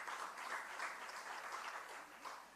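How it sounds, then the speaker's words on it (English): A room full of people at a PATH town hall consultation applaud together in a steady, dense burst of clapping, moderately close and unbroken for a few seconds. "So give yourselves a round of applause."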